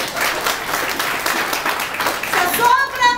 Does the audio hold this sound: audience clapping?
yes